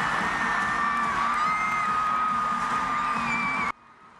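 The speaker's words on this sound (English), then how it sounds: "Fans cheering, as you can hear, at Wembley Stadium" A stadium crowd at Wembley cheers during a concert, a steady roar of distant whoops and shouts that carries for several seconds and then cuts off abruptly.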